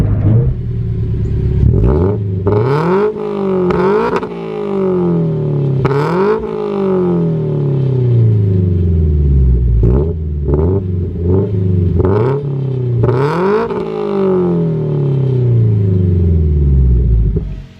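A Toyota 86-platform car (FR-S/BRZ/GT86) fitted with a Speed Factory catted unequal-length header drones and rumbles loudly while driven, revving up repeatedly through gears with rising and falling engine tones and no talk.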